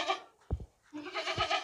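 A well-bred dairy goat, alone in an unfamiliar place, gives two loud nearby bleats separated by a short snort, each call wavering and sustained, with no talk over it.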